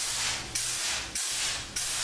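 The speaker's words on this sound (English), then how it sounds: "This is my first time spray painting with the compressor" An air compressor spray gun sprays paint in three or four sustained hissing bursts, each cut off sharply before the next, close and steady.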